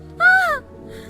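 A single crow caw rings out loud and close, one short harsh call with a falling tail, followed by a faint second trace, with no talking.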